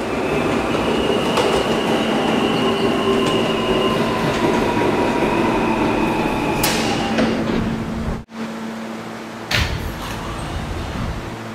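A D subway train bound for Rentar Plaza rides along with a loud continuous rumble, wheel squeal and rail clatter, a brief dip near the end, no talking.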